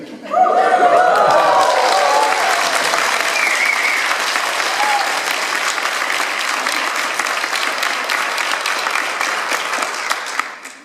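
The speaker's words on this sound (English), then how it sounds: "I hope you heard the applause here as well." Applause from a crowd of about 200 fans: loud, dense, sustained clapping that starts abruptly, holds steady for about ten seconds, then cuts off, with some cheering mixed in early.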